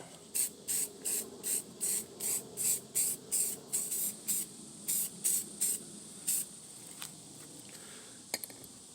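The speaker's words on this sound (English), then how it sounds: "Now we're gonna go spray the background for the Voltec over here" Short bursts of spray paint hissing in a steady rhythm over a plywood stencil, about a dozen in a row, with a rattle near the end.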